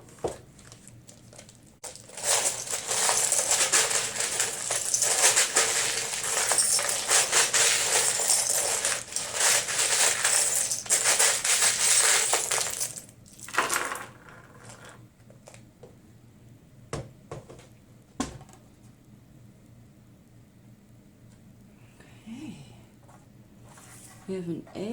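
Small divination charms are shaken, cast and tumble, giving a long burst of dense rattling and clattering, then scattered clicks and taps as they settle, heard close with some speech.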